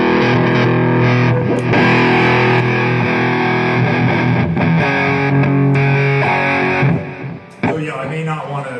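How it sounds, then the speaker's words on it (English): Distorted electric guitar through a Peavey amp with the master boost engaged, played loud and close in sustained chords and riffs, briefly cutting out near the end before resuming. "So this amp has a master boost, which is very important."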